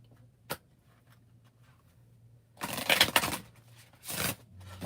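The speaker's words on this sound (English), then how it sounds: "Let's give this a good shuffle real quick." A tarot deck is shuffled in a quiet room during a reading, with two short bursts of riffling card noise separated by a brief pause, close and soft.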